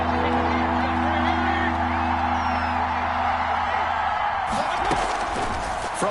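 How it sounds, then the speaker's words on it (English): A football stadium crowd roars in a steady, loud wash ahead of a big third down in a Browns vs Ravens game, with a sharp burst of noise near the end. "The crowd getting into it as we come up on a big 3rd down."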